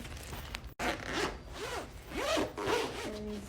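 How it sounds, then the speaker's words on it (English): A zipper is drawn in several short, scratchy pulls along a fuzzy fabric cover, close and fairly quiet, with soft rubbing and rustling between strokes. "Okay, so it has the zipper."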